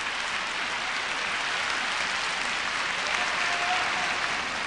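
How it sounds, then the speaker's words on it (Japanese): A large arena audience gives a long, dense burst of applause as a figure skater takes the ice at a 1994 skating exhibition, steady and enveloping with no break. "大きな拍手に迎えられて伊藤みどりの登場です"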